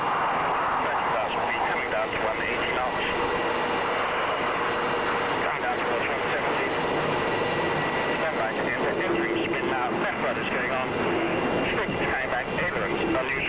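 A BAE Hawk jet trainer flies past during a test flight, a steady loud turbine roar with a rushing whine that holds for over ten seconds, under no talk.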